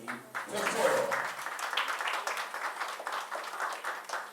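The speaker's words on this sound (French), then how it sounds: "je vous prie de bien vouloir applaudir très fort" An audience at a dedication ceremony breaks into applause, a dense, moderate patter of many hands that swells early and then holds steady, heard from within the room.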